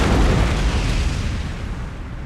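A cannon shot in the Empire: Total War battle game: one loud, heavy boom that rolls out into a broad rumbling roar and slowly fades over about two seconds.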